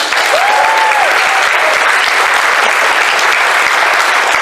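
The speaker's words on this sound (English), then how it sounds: "Give yourselves a round of applause." A large crowd at the TFNation fan convention's opening ceremony applauds, a loud, steady, unbroken wash of clapping with a brief high tonal note rising above it near the start.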